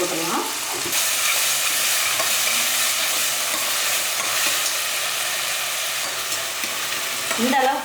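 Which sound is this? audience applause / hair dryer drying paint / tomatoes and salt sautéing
tomatoes and salt sautéing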